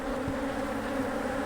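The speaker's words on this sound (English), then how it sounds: "Angry bees," Angry honey bees swarm around an opened hive, producing a loud, continuous droning buzz that holds steady from start to finish with no voices.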